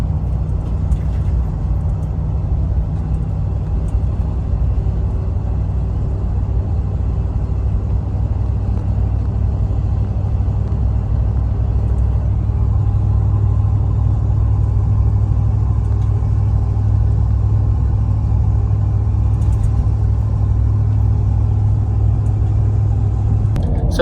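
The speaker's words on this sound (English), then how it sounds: "Here's the drone at 60 miles an hour." A tuned 2020 Ford 6.7 Powerstroke diesel truck with a 5-inch exhaust cruises at highway speed with the windows closed, giving a constant heavy low drone and road rumble inside the cab, with no talking.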